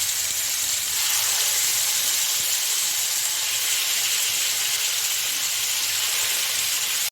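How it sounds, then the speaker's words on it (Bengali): Marinated chicken fries in hot oil in a pan, a loud, steady sizzle and hiss that runs unbroken and close throughout, with no voices. "এখন আমি মেরিনেট করা মাংসগুলোকে আমি একটু ভেজে নেব ভেজে নিচ্ছি আমি"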